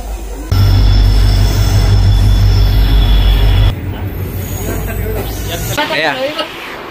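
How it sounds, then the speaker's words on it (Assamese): A train rumbles loudly into a station with a sustained metallic wheel squeal, then the roar drops away as it slows; voices chatter near the end. "আমাৰ ট্ৰেইন আহিলে যাবলৈ হৈ গ'ল"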